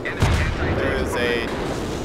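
Tank bombardment in a first-person shooter game, a dull heavy boom followed by rumbling battle noise, mixed with game sounds and a player's voice over the top.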